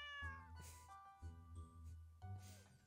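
A cat in the Stardew Valley video game meows several times in clear, close, tonal calls with short pauses between them, heard alone with soft game music underneath.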